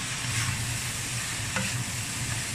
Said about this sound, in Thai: ใส่ต้นหอมลงไปกับปินไฟได้เลยค่ะ